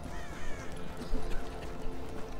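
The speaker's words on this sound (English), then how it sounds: "Crows, you can kill them." Crows cawing in the video game The Division, several harsh caws scattered over a busy background of ambient game noise.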